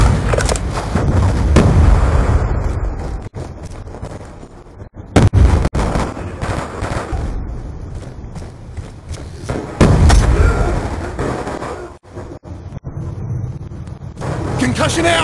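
Frag grenade explosions and gunfire from Call of Duty Black Ops 2 multiplayer, loud dense bursts and booms repeating throughout with players talking over the action.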